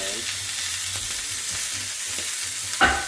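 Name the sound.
steak sides searing in a hot pan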